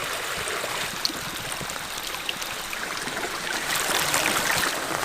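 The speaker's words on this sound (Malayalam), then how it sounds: "ഈ ഒരു കായകട വെള്ളം കല്ലിൽ തട്ടി ചാടി പതഞ്ഞു വരുമ്പോൾ" Waterfall water rushes and splashes steadily over stones, a continuous broadband roar close by, with a brief surge in the last second.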